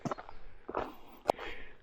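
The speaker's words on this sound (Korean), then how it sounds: "그리고 제 발걸음 소리," Footsteps crunch along a pine forest trail on Geombongsan mountain near Gangchon, several uneven steps close by, soft scuffs with one sharper crack, and no talking.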